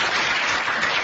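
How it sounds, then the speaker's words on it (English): Dense, steady applause from a small studio group, loud and continuous throughout a very short burst, with no voices over it. "Big hand of applause"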